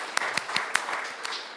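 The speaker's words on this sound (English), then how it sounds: "let's give her a round of applause" An audience applauds at a community gathering, a brief wash of clapping with a few sharper individual claps standing out, moderately loud and close.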